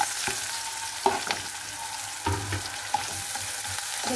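Onion and garlic fry lightly in a pan for a vegetable mash, a continuous close sizzle broken by a few sharp scraping knocks of a spoon stirring against the pan.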